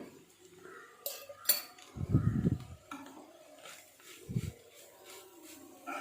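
A spoon scrapes and clinks against a pan while oyster mushroom thoran is mixed with pepper powder, a few brief metallic knocks and soft stirring sounds in a fairly quiet kitchen.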